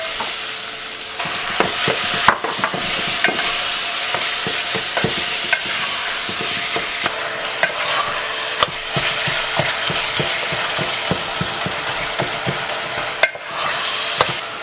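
Ground chicken sizzles and crackles in a hot pan while a utensil scrapes and stirs it in repeated strokes, close up with no voices.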